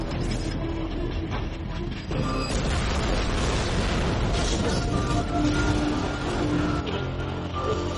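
A train rolls along rails, a loud, continuous rumbling roar with metallic clatter and a brief squeal, close and steady throughout with no pauses.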